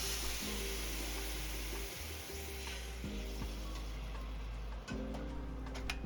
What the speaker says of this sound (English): Now we're going to deglaze the pan.